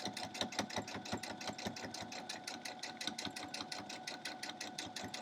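A sewing machine stitches down the pieces of a crumb block quilt, running steadily at close range with a fast, even rhythm of needle strikes and a faint hum beneath, with no talk over it.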